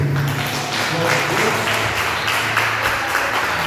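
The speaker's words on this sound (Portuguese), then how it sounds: "Queria pedir para vocês, então, uma salva de palmas para o Senhor." Congregation at a Brazilian church service applauding together, a steady dense wash of clapping with a low sustained hum beneath and some voices mixed in.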